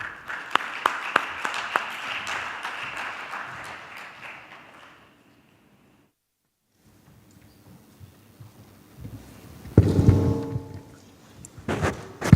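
A convention audience's applause with scattered sharp claps fades out into silence, then a brief louder burst of sound follows near the end.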